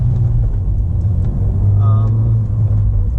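Ford Fiesta ST accelerates hard with a deep steady engine rumble from inside the cabin, loud and sustained, while a person talks over it.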